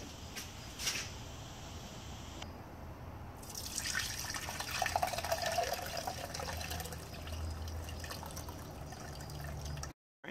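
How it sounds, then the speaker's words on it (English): Liquid with old eggshells poured through a fine strainer for homemade calcium carbonate fertilizer, a steady close trickle and dripping that builds into a fuller pouring stream before stopping abruptly. "we're going to go ahead and just pour it through and make sure that we capture all of the old eggshells"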